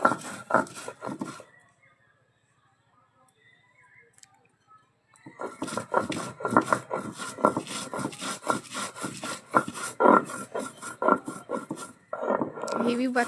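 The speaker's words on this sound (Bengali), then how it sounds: "এবার আমরা বেটে নিব।" Cumin being ground into paste on a traditional grinding stone, a repeated close, gritty rubbing and scraping in a steady back-and-forth rhythm, pausing briefly near the start before resuming.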